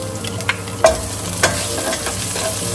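Ginger and onion sizzle in a hot pan for Filipino pinakbet, a loud continuous fry with several clattering stirs and scrapes of a utensil, no voices.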